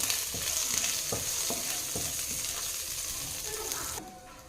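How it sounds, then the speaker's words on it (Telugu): A spoon stirs turmeric into an eggplant curry simmering in a pan, giving a steady close sizzle with soft rhythmic scraping strokes that stop abruptly near the end. "ఇట్లా చిటికెడు పసుపు వేసి కొంచెం కలిపేద్దాం."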